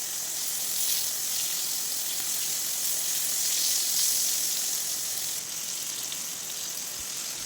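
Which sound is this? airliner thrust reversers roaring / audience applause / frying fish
frying fish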